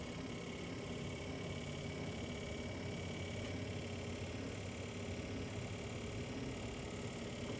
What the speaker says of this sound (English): So it's just gonna spin over and pump the transmission fluid out of the cylinders right now.